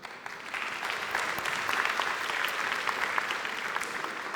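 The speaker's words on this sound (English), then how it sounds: "So, an applause for our first guest." Audience applause for a guest at a discussion forum panel, steady dense clapping from a sizable crowd, moderately distant and continuous throughout.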